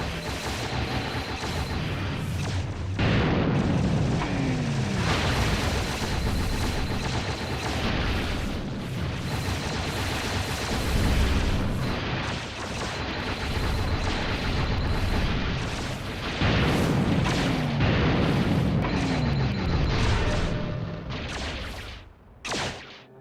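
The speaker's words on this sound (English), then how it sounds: "the ability for the ion cannon / dispersion cannon to fire backwards" An ion or dispersion cannon fires repeatedly in the video game TerminalFury, a dense barrage of booming blasts and crackling bursts that stays loud throughout, with brief lulls and a fade at the end.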